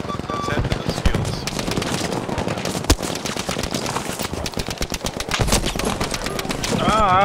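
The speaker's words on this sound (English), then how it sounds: "that Vickers gun is nasty" A Vickers machine gun in Battlefield V, on the Arras map in Frontlines mode, fires loud, rapid bursts of clattering shots that run almost the whole time, mixed with other battle noise and some voices.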